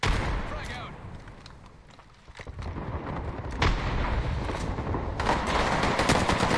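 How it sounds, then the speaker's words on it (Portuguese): Gunfire in the Apex Legends battle royale game, rapid cracking shots and bursts in quick succession over a dense mix of game noise, with people talking over it. "Eles atiraram na minha bait."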